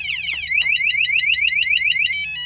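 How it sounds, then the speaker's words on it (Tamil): A loud electronic anti-theft alarm on a hybrid Honda Activa scooter warbles rapidly up and down in a steady pulsing pattern, close by, after a couple of short beeps, then cuts off. "டூப்ளிகேட் சாவி போட்டு ஆன் பண்ண உடனே உங்களுக்கு அலாரம் அடிக்க ஆரம்பிச்சிடும்"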